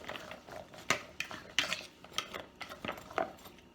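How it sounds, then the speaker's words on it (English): A utensil stirs sliced carrots with olive oil and garlic in a bowl, giving quick clinks and scrapes in an uneven rhythm, close and fairly quiet. "going to go ahead and add the olive oil and garlic. Mix that up really well."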